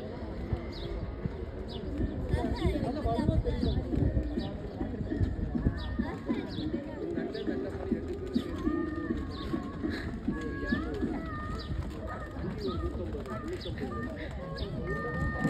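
A small horse pulling a cart clip-clops along slowly with steady hoofbeats, while people talk throughout and birds chirp faintly in the background.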